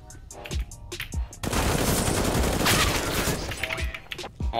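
Gunfire from Counter-Strike: Global Offensive in a 1v1 knife round, a sustained loud burst of rapid automatic shots lasting several seconds, with short voice exclamations before and after it.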